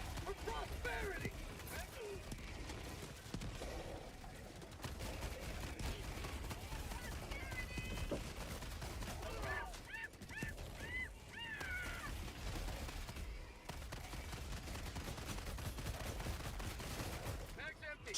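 Incendiary breaker shotgun blasts fire repeatedly in Helldivers 2 combat against the Illuminate, with loud, dense bursts spread through a busy mix of game effects and voices talking over the shooting.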